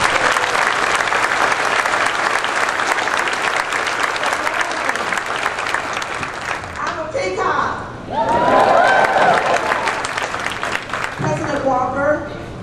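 Loud, sustained audience applause at a university commencement welcoming the speaker, steady clapping filling the hall for several seconds before a voice begins speaking over the fading claps.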